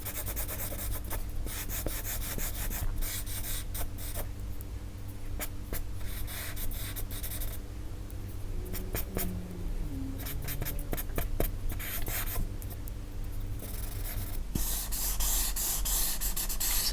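A graphite smudge stick rubs and scratches across paper while drawing a hand, a close, soft, continuous scraping with slight variations in pressure and no talking.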